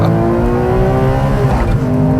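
A Porsche 911R engine revs with a loud, close, harmonic-rich roar, holding a steady pitch with slight wavering across a couple of seconds.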